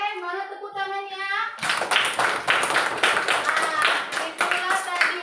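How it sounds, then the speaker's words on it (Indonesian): A classroom group claps hands together, a dense burst of many overlapping claps lasting several seconds after a brief moment of sung or spoken voices. "mana tepuk tangannya?"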